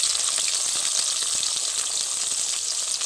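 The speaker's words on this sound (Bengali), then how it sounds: "তেলটা ভালোভাবে গরম হয়ে গেছে একে একে মশলাগুলো দিয়ে দেব" Spices frying in hot oil produce a steady, bright sizzle with fine crackling pops throughout, close and moderately loud, without any voices.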